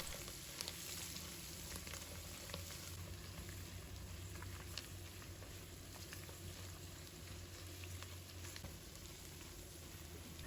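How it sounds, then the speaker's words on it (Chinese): Pork belly stir-fried with cilantro and a spoonful of vinegar over high heat gives a steady, dense sizzle and crackle throughout, with scattered pops and a faint high whine behind it. "醋香全程都是大火炒几下就可以"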